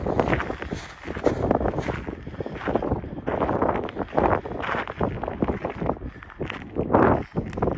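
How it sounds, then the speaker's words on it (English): Strong wind buffets the microphone continuously at a campground, a loud roaring rumble with gusty swells and no clear speech. "It's kind of windy, so I think our tent's going to get blown around all over the place."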